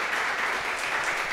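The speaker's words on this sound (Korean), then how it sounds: "오늘 다시 한번 우리 타쿤 실장님께 큰 박수 부탁드립니다." Audience applause at a Korean mentoring talk, a steady dense wash of many hands clapping together, sustained and fairly even throughout with no voices standing out.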